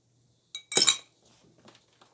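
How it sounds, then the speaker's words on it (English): A spoon stirs an espresso shot into a long black coffee, giving a quick cluster of bright clinks against the cup followed by a few faint, scattered taps. "And now we'll dump our shot in there. And then we're going to stir it up."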